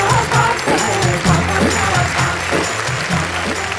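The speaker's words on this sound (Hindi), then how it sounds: "जोरदार तालियां संगीता सरल।" Clapping crowd at a Hindi comic poetry gathering as a poet is honored on stage, steady applause blended with background music and a low rhythmic beat, fairly loud throughout.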